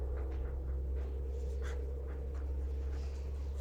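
A pen scratches out the final answer to an algebra problem in short, faint bursts of strokes over a steady low hum, with no one talking.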